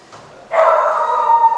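A single dog gives one close, drawn-out yelping bark lasting about a second after a brief quiet moment.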